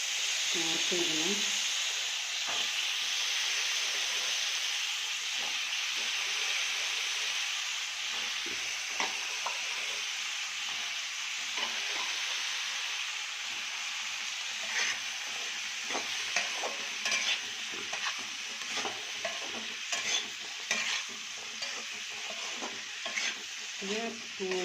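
Chinese potatoes (koorka) are sautéed with masala in a pan, giving a constant hissing sizzle. Repeated scraping and stirring strokes grow more frequent toward the end.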